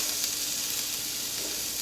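Onions sizzle on a hot griddle for a loco moco burger, a dense, continuous hiss and crackle held close and steady throughout.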